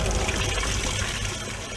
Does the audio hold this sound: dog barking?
no